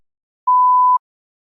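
A single clean electronic beep from a TOEFL speaking practice test prompt, about half a second long, sounds alone against silence.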